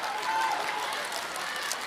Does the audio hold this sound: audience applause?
yes